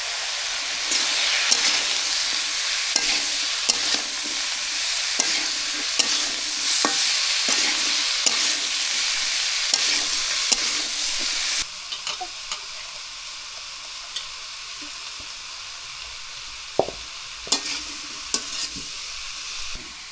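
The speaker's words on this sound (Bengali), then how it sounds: "আমি কাঁকরোলটা ভাজি করবো কাঁকরোল দিয়ে দিই হলুদের গুঁড়া" Spiny gourd (kakrol) frying in oil with turmeric, a loud continuous sizzle with frequent clicks of stirring, fading to a quieter hiss with occasional sharp taps in the second half.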